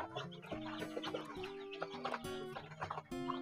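Several young chicks cluck and chatter close by in a busy, overlapping stream, with short sharp calls popping out now and then.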